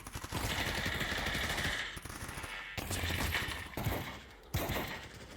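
Automatic weapon fire in Counter-Strike: Global Offensive played in virtual reality, heard as several loud, close bursts of rapid shots with brief gaps between them and no talking.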